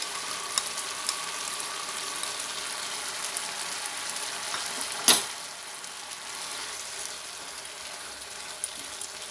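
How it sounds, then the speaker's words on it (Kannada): A gram flour and curd mixture sizzles steadily in a hot pan, with one sharp clatter midway through. "ಈಗ ನಾವು ಈ ಕಡಲೆ ಹಿಟ್ಟು ಮತ್ತು ಮೊಸರು ಮಿಕ್ಸ್ ಮಾಡ್ಕೊಂಡಿದ್ದೀವಲ್ಲ, ಆ ಮಿಕ್ಸ್ಚರ್ನ ನಾನು ಇವಾಗ ಇದಕ್ಕೆ ಹಾಕ್ತಾಯಿದ್ದೀನಿ"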